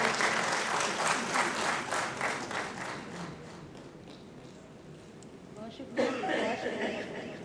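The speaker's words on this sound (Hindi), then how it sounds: "ताली बजा दीजिए" An audience at an Urdu poetry recital bursts into sustained applause, many hands clapping densely for several seconds, fading slightly before a brief swell near the end.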